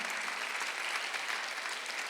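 A church congregation at a Sunday worship service claps together in a dense, steady burst of applause that fills the short moment with no voices over it.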